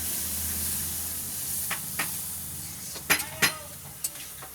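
Onion, cumin and black pepper sautéing in a pan after a splash of water, a steady hiss and sizzle with a few sharp spits and pops near the end.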